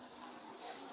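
Water poured over a 50-gallon food-grade barrel used as a chicken waterer, a brief steady splashing rush like a running tap, close by, with a brighter spurt near the end.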